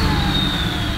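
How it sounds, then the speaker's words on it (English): A deep, steady engine rumble from an FM 700 Outlaw Ford F-150 idles close by, with a faint high supercharger whine riding over the low exhaust throb. "and a great rumble from the exhaust."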